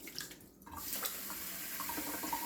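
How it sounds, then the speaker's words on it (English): Warm water runs from a tap into a bowl for focaccia dough, a steady close hissing splash that carries on after a brief dip, with no voices over it. "we're going to put in 250 ml of warm water"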